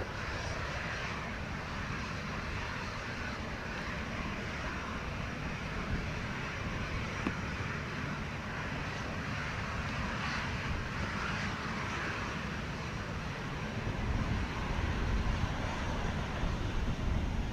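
An airliner takes off at Montego Bay airport in Jamaica, its engines a steady broadband roar heard from a distance that swells slightly louder near the end.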